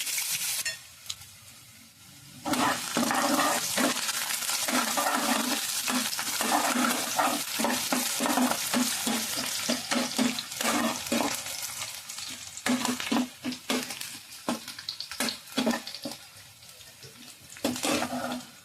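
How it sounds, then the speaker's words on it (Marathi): Onion fries with cumin and curry leaves in a pan, giving a continuous loud sizzle broken by frequent scraping stir strokes, with no voices. "जिरं टाकलं. कढीपत्ता टाकला. कांदा टाकला."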